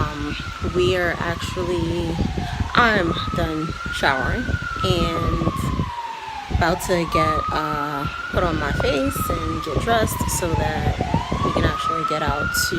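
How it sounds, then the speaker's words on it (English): Police sirens wail continuously on a busy Brooklyn street in New York City, rising and falling in repeated sweeps under close, steady talking, with traffic noise behind. "Pardon the sirens. This is normal New York City, Brooklyn."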